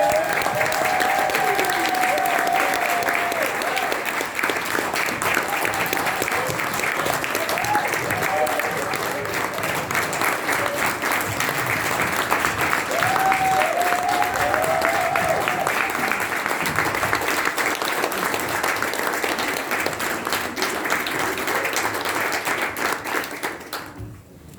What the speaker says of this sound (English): I think we should give all of them a huge round of applause